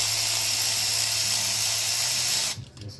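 A power tool running steadily as it loosens small bolts during a Nissan timing chain replacement, with a continuous high whirring hum that cuts off near the end.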